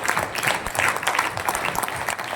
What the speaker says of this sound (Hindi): आपकी तालियां बता रही है